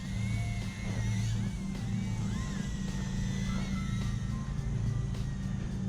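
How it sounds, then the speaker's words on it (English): A Redpawz R010 mini drone with a 260 mAh battery flies outdoors in a slight breeze, giving a steady, loud, high buzzing whine over a continuous rushing drone with shifting pitch, and no voices. "It's a zippy little drone here."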